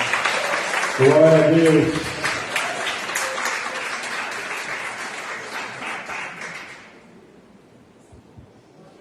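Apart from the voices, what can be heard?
congregation applause in church service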